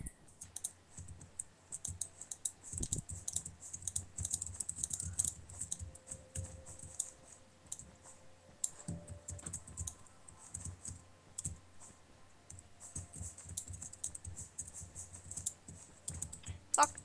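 Rapid, uneven clicking of a computer keyboard as a sign is typed during a building minigame, keystrokes close and crisp in quick bursts with brief pauses, a faint voice now and then in the background.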